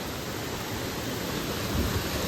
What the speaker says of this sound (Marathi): आपल्याला एक छोटा स्मॉल धबधबा बघायला भेटलाय